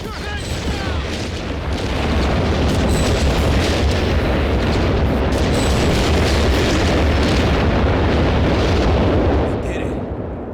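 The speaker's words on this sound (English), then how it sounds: "Bombardment incoming!" Artillery bombardment in Company of Heroes 3, a dense, continuous roar of heavy explosions and booms rolling for about ten seconds, loud and sustained with scattered sharper blasts, while voices call out over the barrage.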